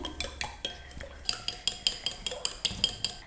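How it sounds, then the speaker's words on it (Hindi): A spoon or whisk stirs an egg into a milk and yeast mixture in a bowl for donut dough, making quick, regular metallic clinks and scrapes against the bowl. The taps are close and fairly quiet, in a steady rhythm. "अब हम इसमें शामिल करेंगे 1 अदद अंडा शामिल करने के बाद हमने इसको अच्छे तरीके से मिक्स कर लेना है"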